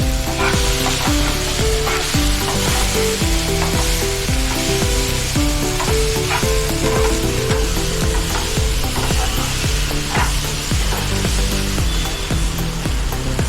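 Homemade garam masala sautéing in a pan for prawn biryani, a continuous loud sizzle with rhythmic stirring scrapes of a spoon, layered over a steady background tone, without speech.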